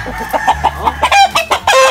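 A chicken clucks repeatedly in short, close, rhythmic bursts, with a few louder squawks near the end.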